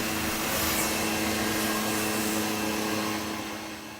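A steady Hoover Constellation vacuum cleaner motor drones with a constant whine, then gradually winds down and fades near the end.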